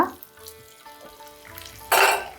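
Curry leaves and asafoetida sizzle in hot tempering oil for lemon pulihora, a crackling fry with a few small spoon-and-pan clinks, bursting into a loud hiss near the end.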